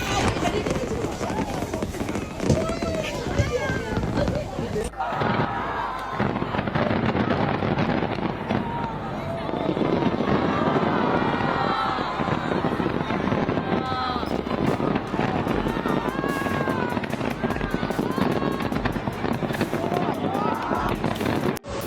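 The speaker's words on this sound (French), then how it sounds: "Spectacle de feux d'artifice de la fête nationale au port Victoria Hong Kong le 1er octobre 2025." National Day fireworks show over Victoria Harbour, Hong Kong, with rapid crackling bursts and booms from a distance mixed with crowd noise and people talking and exclaiming throughout.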